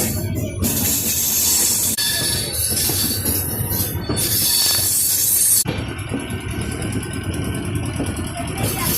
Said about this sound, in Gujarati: જો કેમ જાય છે ગાડી.